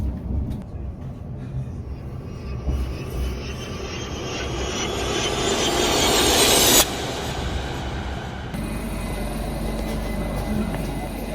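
A train rumbles and whines steadily, its pitch rising as it draws into Hertford East station, then a sudden drop to a quieter hum as it settles.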